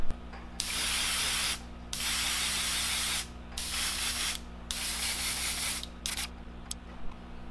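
An airbrush hisses in several bursts of a few seconds each, spraying translucent color-shift paint onto a handmade warmouth swimbait, close and steady with short pauses between passes.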